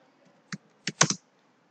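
Quick keystrokes on a computer keyboard while practicing Mangal font typing on Windows 10: one isolated tap, then a short burst of three or four close clicks, crisp and near in a quiet room.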